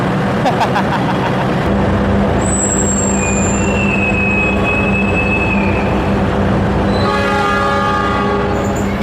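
Inside the Cikuray passenger train while it runs on the rails: a loud, steady rumble and clatter of the carriage, a long horn tone sounding midway, and a brief wheel squeal near the end.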